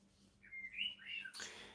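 Birds chirp faintly outdoors: a single thin, rising whistled phrase is followed by a brief bright burst, heard alone in quiet surroundings.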